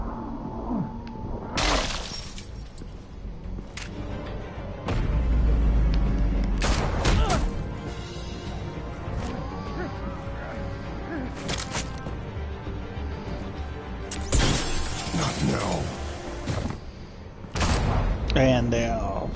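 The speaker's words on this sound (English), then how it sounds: "It's like a flash bomb. Even sounds like one." A flash bomb goes off in the Telltale Batman video game, with sharp shattering bursts and booms over a steady music bed. Loud hits land around the middle and near the end.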